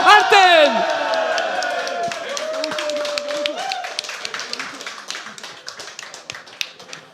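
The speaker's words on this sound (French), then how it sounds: "Un tonnerre d'applaudissements pour vous remporter du split Alten" Crowd applause and cheering for the winning Alten team at a corporate esports league final, a burst of loud clapping and whoops that gradually thins out, with some voices mixed in.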